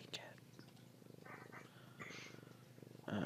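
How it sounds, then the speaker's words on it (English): A fuzzy house cat purrs close by, a soft, steady rhythmic rumble running throughout while a person speaks quietly over it. "What a good fuzzy kitty."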